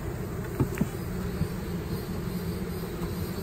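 Honey bees from a swarm trap filled with six frames of comb hum in a low, steady drone close by, with a few louder buzzes of individual bees passing near.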